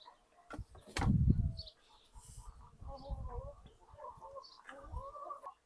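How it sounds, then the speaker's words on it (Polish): A hen clucks softly in short murmured phrases, close by, with a few brief bumps and rustles around it. "Zobaczcie, gdzie weszła kura."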